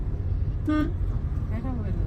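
A single short car horn toot sounds nearby amid engine and road noise, followed by a fainter tonal honk a moment later.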